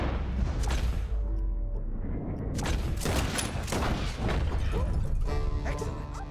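Dense, continuous gunfire at a shooting range in the video game Red Dead Redemption, with loud overlapping shots and booming cracks going on throughout.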